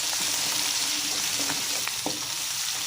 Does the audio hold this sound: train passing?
no